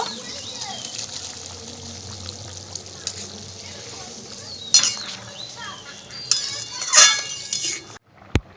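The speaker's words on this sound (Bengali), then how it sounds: "এবারে কোপ্তাগুলো সব ঢেলে দেব" Prawn koftas are tipped into simmering curry gravy in a pan, giving soft pouring and bubbling sounds with a few sharp clinks of a utensil against the pot, fairly quiet overall.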